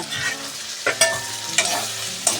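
Potatoes sautéing in spice masala in a pan: a spoon stirs and scrapes through the thick mixture with several distinct knocks against the pan over a low sizzle, close and clear.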